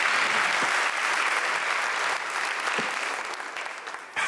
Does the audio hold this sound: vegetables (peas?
no